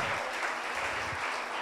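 A church congregation claps together during a Sunday service, a short dense burst of steady applause with no voices over it.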